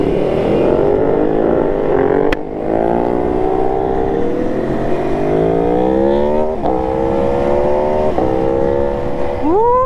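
A Ducati Scrambler motorcycle engine revs loudly and continuously alongside other bikes, its pitch rising and falling through gear changes, with a sharp upward rev at the end.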